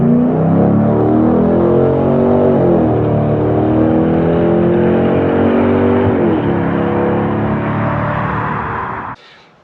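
A car exhaust droning loudly and steadily with a rich low rumble that dips and rises slightly in pitch over several seconds, then cuts off abruptly.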